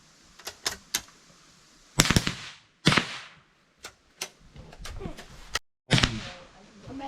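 Rifle shots ring out one after another at a family camp riflery range, each a sharp, fairly close crack with a short decay, while people talk between them.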